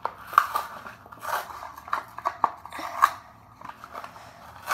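Snipping and crinkling of a Hot Wheels toy car package being cut and opened, a series of short, fairly quiet clicks and scrapes at an irregular rhythm with no talk.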